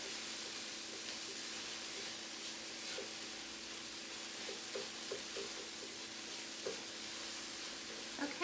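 Tofu being squished and stirred in a pan for a tofu scramble: a faint, steady sizzle with repeated soft scraping and pressing taps from the utensil, and no talking.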